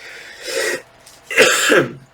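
Two harsh, raspy coughs close up, the second longer and louder, separated by a short pause.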